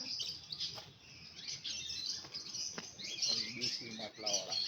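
Caged parrots at Sundarvan, Ahmedabad, give faint, repeated chirps and squawks against a quiet outdoor background, with people talking softly nearby.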